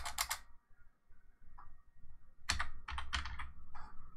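Bursts of typing on a computer keyboard, quick clusters of key clicks at the start and a denser run of keystrokes in the second half, close and fairly quiet with pauses between.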